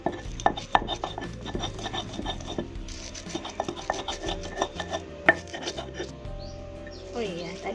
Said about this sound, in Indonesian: Kita tambahkan sedikit garam, kemudian kita haluskan.